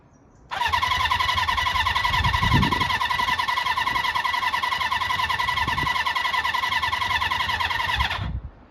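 A Honda CB400 Four classic four-cylinder motorcycle under restoration cranks briefly, then catches and settles into a loud, steady, close idle. It holds an even, slightly rough drone for several seconds before cutting off abruptly.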